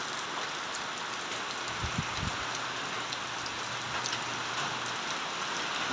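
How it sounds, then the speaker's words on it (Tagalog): Heavy rain pours steadily in a Filipino home setting, a dense, even hiss filling the whole stretch with a faint low hum underneath and no voices. "Ito na naman si ulan, malakas na naman ang ulan nito."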